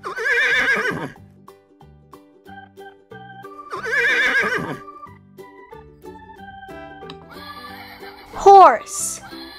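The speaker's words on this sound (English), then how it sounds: "Horse." A horse gives two loud, close whinnies several seconds apart, each a shaky, quavering call. Softer tonal sounds fill the space between them, and a short sweeping sound comes near the end.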